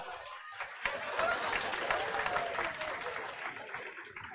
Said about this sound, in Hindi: क्या सब ताली बजाएंगे